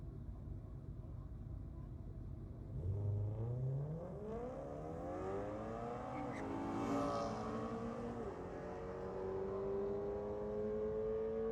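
A BMW and a Hyundai accelerate down a drag strip at a night drag-racing event, engines climbing in rising pitch sweeps through gear changes, heard from a distance over steady crowd and track background.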